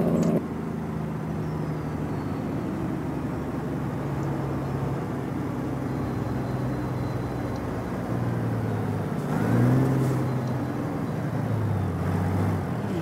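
Kenworth T680 truck in American Truck Simulator with its Jake brake engaged, a steady loud low engine drone and rumble that holds for the whole stretch, swelling and shifting in pitch toward the end.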